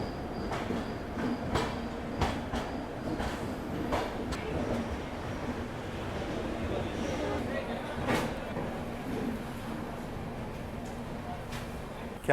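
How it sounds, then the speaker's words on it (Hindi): A passenger train arrives at Mysuru railway station at night, rumbling and clattering steadily on the rails with repeated wheel clicks and faint squeals, while a voice is heard talking over it. "फाइनली अपनी ट्रेन का अराइवल हो रहा है मैसूरू रेलवे स्टेशन में"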